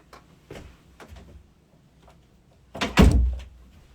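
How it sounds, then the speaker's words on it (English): An interior door swings shut with a solid thunk near the end, after a few soft footsteps and shuffles, close and fairly loud in a quiet room. "I'm going to close the door."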